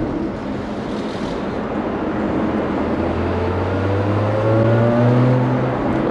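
A Lotus Emira prototype sports car engine revving up with a rising exhaust drone, growing louder toward the end, with burbles, crackles and pops under the steady roar.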